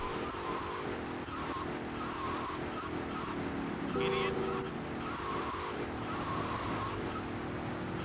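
A car drives and skids in GTA Vice City Remastered, with steady engine drone and tire noise and a brief squeal near the middle, while people talk over it.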